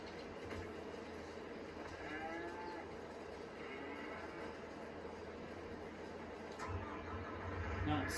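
Cattle on a farm moo several times near a feed mixing machine, drawn-out calls over a steady mechanical rumble, with a voice talking in the background.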